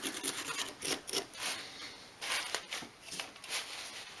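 A wire brush scrubbing a vintage oil can during restoration: faint, close, irregular raspy scratching strokes in short bursts with brief pauses.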